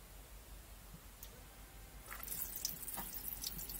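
Quiet hiss gives way partway through to hot water splashing from a tap in a motorhome fed by an instantaneous water heater, a faint steady stream with small drips and splatters.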